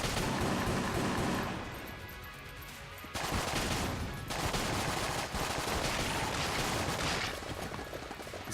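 Dense, continuous bursts of rapid gunfire from the video game Enter the Gungeon, loud and close, with a brief lull before the firing resumes.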